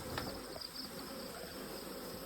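Honeybees buzzing at a hive split, a faint steady hum in the background outdoors with no voices.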